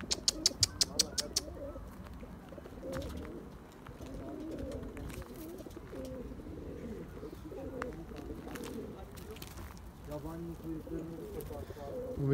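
Tumbler pigeons coo in soft, low, repeated calls. A quick run of sharp clicks or chirps opens the scene, and faint voices murmur in the background.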